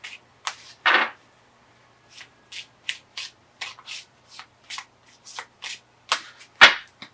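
Tarot cards shuffled and drawn, a series of short papery riffles and slaps at irregular intervals, close and fairly quiet, with one sharper card snap near the end.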